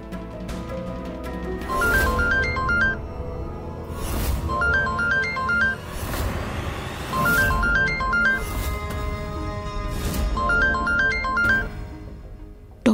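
A phone ringtone plays loud and alone, a repeating electronic melody in four spaced bursts with short pauses between, steady and close throughout.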